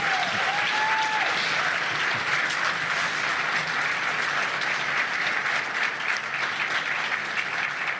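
A large audience at a political event in Manitoba fills the room with sustained, dense applause, steady and loud for eight seconds, with crowd noise in the mix and a brief faint whistle near the start.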